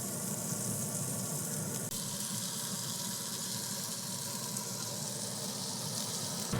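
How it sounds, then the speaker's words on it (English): Burger patties and onions sizzling on a grill for an Oklahoma onion burger, a steady, fairly faint even hiss throughout with no talk. "So now while my burgers is cooking, onions is on the grill"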